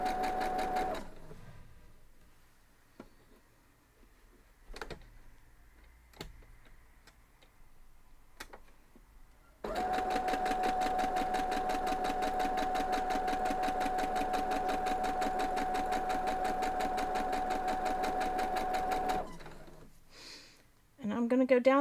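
A sewing machine stitches a quarter inch quilt seam in a quilt block, running in a steady rapid whirring stitch for about ten seconds after a quieter stretch of scattered clicks and handling.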